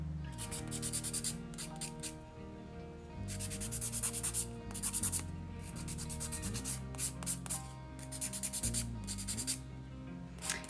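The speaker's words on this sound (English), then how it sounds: "So I'm going to do light filing at the top here, just because I don't want it to be too thick." A buffer block lightly files and buffs a builder gel nail, giving quick repeated scratchy rubbing strokes in short bursts, close and soft, with a quiet musical backing underneath.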